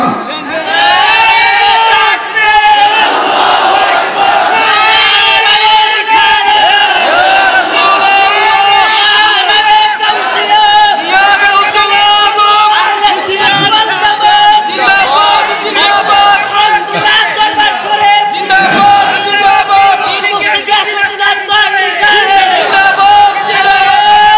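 Crowd at a Sunni religious conference in Habiganj shouting and cheering a slogan together, loud and continuous, with voices layered over one another throughout.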